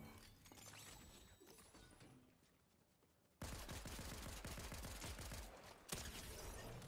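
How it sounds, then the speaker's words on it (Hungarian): Rapid bursts of automatic gunfire from a Fortnite match ring out, starting quieter and muffled, then jumping suddenly louder and closer with dense rattling volleys and a sharp crack near the end. "Most lövöldöznek, de nem tudom hol vannak."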